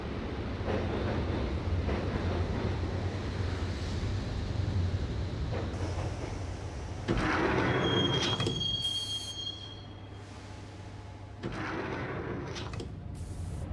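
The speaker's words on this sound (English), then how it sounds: "the train doors had already shut behind me, and I was in for the ride" Subway train ride in the Max Payne game: a continuous rumbling rattle of wheels on track with a high metallic squeal midway, then quieter stretches and renewed rolling, loud and close, with no talk.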